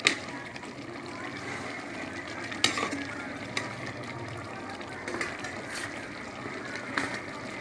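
Okra frying in a pan is stirred to mix in spices such as ground pepper, giving a continuous soft sizzle broken by a few sharp utensil clicks and scrapes against the pan, close and moderately loud, with no talking.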